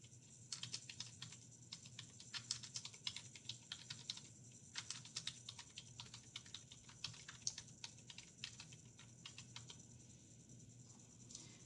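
Rapid typing on a computer keyboard while entering text into a slide, with quick bursts of soft key clicks separated by brief pauses, close and fairly quiet against a low room hum.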